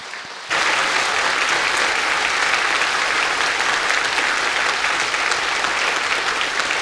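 A church congregation at a Christmas music service breaks into sudden applause after a brief pause, sustained and dense clapping from a large crowd that stays loud to the end.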